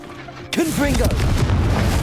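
In Hogwarts Legacy, a Confringo explosion cracks in suddenly and erupts into a heavy, sustained boom with rumbling low end, over in-game voice sounds and effects.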